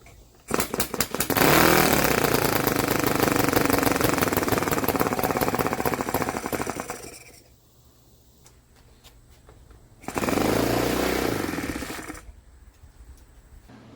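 An OS FS 120 Surpass III four-stroke model airplane engine fires up and runs with a loud, rapid buzz for several seconds, cuts out, then briefly roars back before dying again, sputtering close up.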